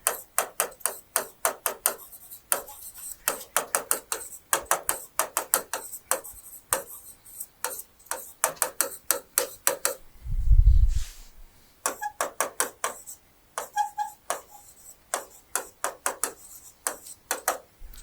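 Chalk tapping and scratching on a classroom board as a teacher writes, a quick irregular run of sharp clicks with brief pauses and a single low thump in the middle.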